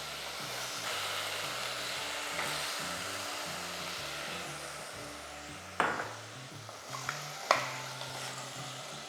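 Two medium-sized cubed potatoes are tipped into onions frying in a pan over a medium flame. A steady sizzle runs throughout, with a low hum underneath and a couple of clattering knocks from stirring.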